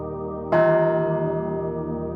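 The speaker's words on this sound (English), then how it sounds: "From time to time, you may hear a bell." A single meditation bell is struck once, a clear, resonant ring that rises out of a soft hum and lingers as a long, gently fading tone.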